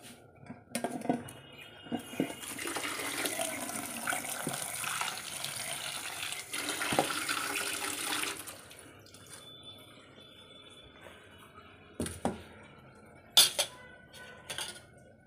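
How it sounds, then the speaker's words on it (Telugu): A kitchen tap runs while tomatoes are put into water: a gush of running water lasts several seconds, then fades to soft drips and a few clinks of dishes. "ఇంకా టమాటాలు కూడా తీసుకొని నీళ్ళలో వేసుకున్నాను."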